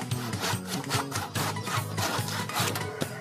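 A hand saw cuts through wood in quick back-and-forth strokes, each stroke a rasping scrape in a steady, brisk rhythm close by.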